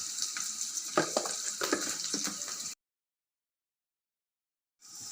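Grated radish fries in a pan with turmeric, salt and ginger paste for a radish curry, giving a loud, steady hiss with stirring clatter that cuts out briefly and then resumes.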